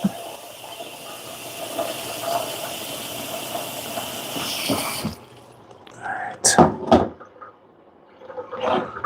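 Running water pours steadily into a pot as food is washed, a close broadband rush lasting about five seconds before cutting off, followed by someone talking.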